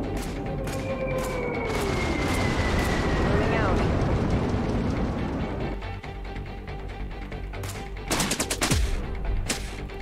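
Mortar fire in the video game Cepheus Protocol: descending whistling tones sweep down over a dense, loud rumble of blasts and gunfire, then a fresh burst of sharp explosions lands near the end.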